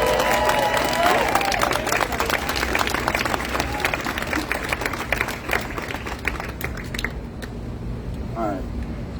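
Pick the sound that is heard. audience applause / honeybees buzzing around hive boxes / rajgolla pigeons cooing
audience applause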